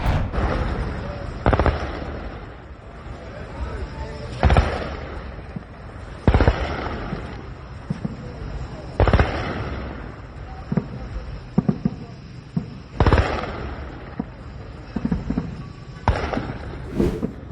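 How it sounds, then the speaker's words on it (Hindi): Repeated heavy booms and blasts from strikes on Mashhad, Iran, at night, several sharp loud impacts spread a couple of seconds apart over a rumbling, noisy background, with voices faintly underneath. "मशहद पर तो कई धमाके साफ सुनाई दिए हैं"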